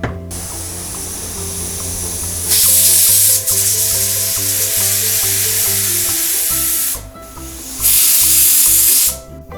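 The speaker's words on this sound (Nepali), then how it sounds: "अब कुकरको बिर्को लगाएर अब आफ्नो कुकरमा कति सिटीमा पाक्छ त्यो अनुसारले पकाउँ।" A pressure cooker cooking a mixed curry of taro root, taro leaves and okra lets off two loud bursts of hissing steam over a steady tonal background.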